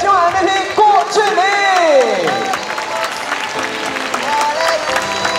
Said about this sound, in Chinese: 掌声送给今晚的 MVP 郭俊